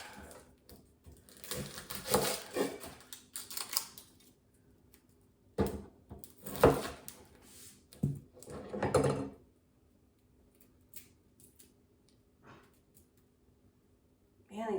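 Red onion being peeled by hand in a home kitchen, stubborn skins crackling and tearing in a few short, close bursts of papery rustle and scraping separated by quiet pauses.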